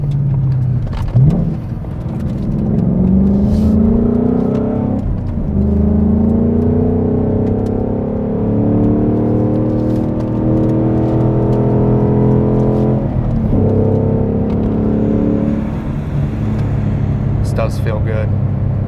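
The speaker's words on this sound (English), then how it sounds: "rev match downshifts are cool." A 2021 Ford Mustang Mach 1 with Handling Pack and resonator delete runs loud and close, its V8 engine note rising and dropping in several blips suggestive of rev-matched downshifts, while someone talks over it.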